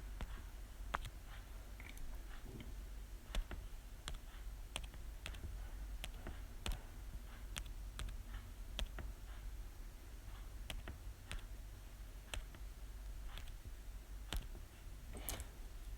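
Keys tapped in a quick irregular run while a location is entered into the Globe at Night app, sharp close clicks over a steady low hum with no talking.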